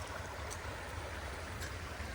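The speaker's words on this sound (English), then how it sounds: "Still lots of water moving through the river here." A swollen river with lots of water rushing through a mine area, heard as a steady, dense outdoor rush of flowing water, continuous and fairly close, with no talk.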